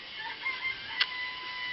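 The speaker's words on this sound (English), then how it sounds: "It's a chicken coop. There are chickens in it." Soft clucking and a brief crowing squawk from chickens in a coop in Danganronpa, thin and slightly synthetic, over a quiet steady background hum.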